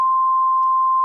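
A steady pure sine test tone, compressed with Vorbis at 1% quality, holds one unchanging pitch for about a second, clean and alone with no other sound.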